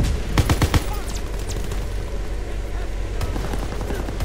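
Rapid gunfire in Call of Duty WW2 multiplayer, a dense burst of loud close shots early on, then a steady roar of battle noise with a few more distant shots near the end.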